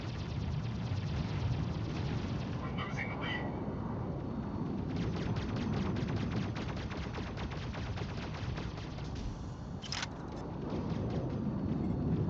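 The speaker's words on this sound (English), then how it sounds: "They're using gas rifles on cooldown." Continuous rapid rifle fire from gas rifles in the Mech Arena mech combat game, a dense, steady rattle of shots over heavy low rumble, loud and sustained throughout.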